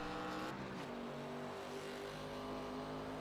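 Race car in the iRacing video game during an ARCA league race at the Milwaukee Mile, engine roaring continuously with pitch shifts as it downshifts, steady and loud with no talk.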